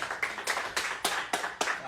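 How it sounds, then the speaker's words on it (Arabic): Guests at a gathering clap in a slow, steady rhythm, about eight sharp, close claps spaced evenly over a couple of seconds. "الضيوف هؤلاء كلهم تصفيق العمر يا شباب"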